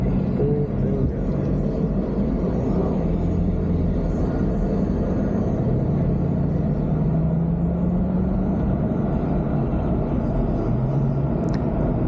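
Car lapping the COTA race track in Austin during a fan lap tour, heard as a steady low engine and road rumble from inside the cabin, continuous and even throughout with a faint rising tone.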